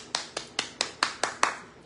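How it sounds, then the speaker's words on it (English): Seven evenly spaced hand claps ring out in a steady rhythm, sharp and fairly close, with a short decay after each and no talking over them. "Clap it up for me, y'all."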